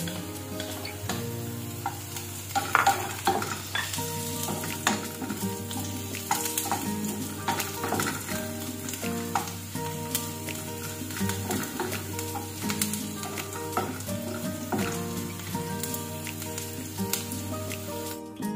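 Garlic sizzling and frying in hot oil for a beef and broccoli stir fry, a loud, dense crackle that stays steady throughout with occasional stirring scrapes.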